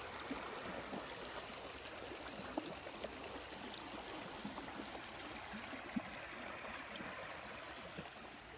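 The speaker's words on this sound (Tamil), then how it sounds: "பார்த்தீங்களா அவ்வளோ வேகமாக தண்ணி போகுது அடிச்சு." Fast-flowing stream water rushing steadily through a village area during heavy rain, a continuous broadband wash with small gurgles and splashes, constant and fairly close throughout.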